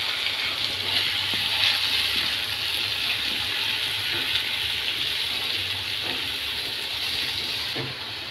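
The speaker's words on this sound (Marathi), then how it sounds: "शिमला मिरची, कोबी, गाजर आणि कांदा पात चांगलं मिक्स करून घेणार आहोत" Continuous sizzling hiss of capsicum, cabbage, carrot, beans and spring onion being stir-fried in a pan, with occasional soft scraping and clinking from stirring throughout.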